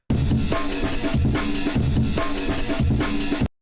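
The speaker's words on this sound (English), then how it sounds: "I then added a bit of overdrive, which makes the drums sound much more crunchier." Crunchy overdriven, EQ'd drum loop for indie game music, a loud, steady repeating beat of punchy hits and gritty cymbals playing alone without pause.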